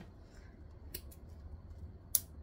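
Scissors snip excess thread after back stitching on a sewn travel bag, with one soft cut near the middle and a sharper, brighter snip near the end, quiet and close with a low background hum.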